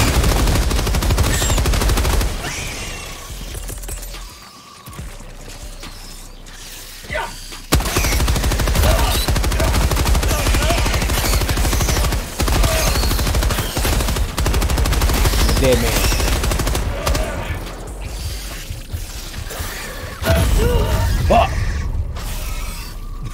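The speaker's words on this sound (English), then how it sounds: "Firing orbital barrage." An orbital barrage pounds down in the video game Helldivers: loud repeated explosions and rattling gunfire in dense bursts, with short gaps and game voices mixed in.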